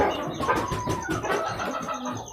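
A five-month-old chicken clucks softly and repeatedly, close by and fairly quiet, in a steady series of short calls with no talking over it.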